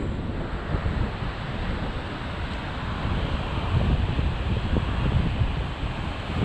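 Strong wind roars steadily throughout as a DJI Ryze Tello drone flies in extreme wind, with heavy buffeting noise on the microphone and a slight surge near the middle; no voices are heard.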